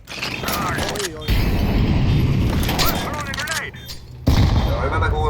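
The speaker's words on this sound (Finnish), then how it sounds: "hyvältä kuulostaa, granaatti lentää" A grenade thrown in the Counter-Strike video game, heard as loud mechanical clattering and bursts with sharp transients from the game's sound, forward and dense, in a short sequence with abrupt cuts.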